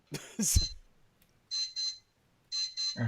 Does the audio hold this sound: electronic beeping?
yes